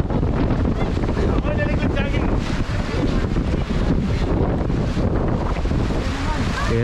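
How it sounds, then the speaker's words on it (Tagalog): Loud, steady roar of strong wind buffeting the microphone without pause, with a rushing wash of pouring rain underneath. "At kasama ng malakas na hangin."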